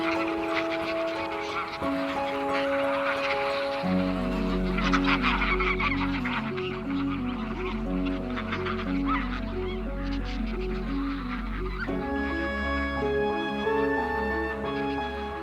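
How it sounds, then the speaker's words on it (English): Wild geese calling by the thousands on winter pastures along the Rhine, a dense, continuous chorus of honks filling the air with layered harmonic calls, loud and steady throughout with no talk over them. "attract thousands of wild geese in the winter. Their calls fill the air in one of nature's great wildlife spectacles."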